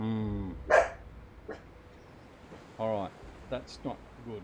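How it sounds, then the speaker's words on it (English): A pet dog barks in a room during a game session, a few short yelps near the start and again later, with someone talking over and between them. "apologies for the dog"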